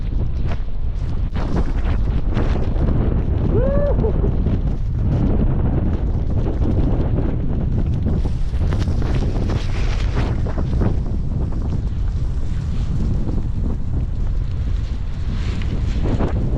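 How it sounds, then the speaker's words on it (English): Strong wind gusts roar steadily and close against the microphone during a heavy winter snow and ice storm, with a brief shout rising once over the constant blustery rush. "Feel that gust right there."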